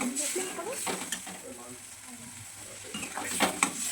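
Water hits a sour puti fish curry cooking on high flame, setting off a bubbling sizzle with bursts of stirring and pan clatter while a voice talks softly.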